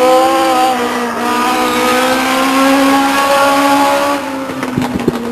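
Legends race cars circling Stockton 99 Speedway, a steady loud engine drone with rising pitch sweeps as cars pass, ending in a few sharp bursts.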